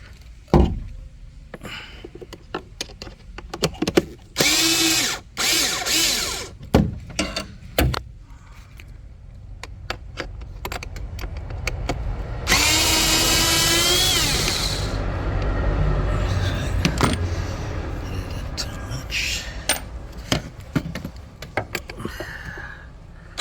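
A power drill backs Torx screws out of the blower motor on a 2008-2015 BMW 750Li. Short whirring bursts are mixed with clicks and handling noises, and one longer, louder run comes near the middle, with no voices.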